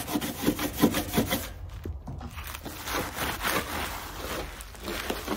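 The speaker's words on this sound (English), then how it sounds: "And give this one a little scrub as well." A brush or scrubber rubs back and forth over wood to clear glue squeeze-out after the tape is pulled off. The strokes are steady, close and rhythmic, with no speech over them.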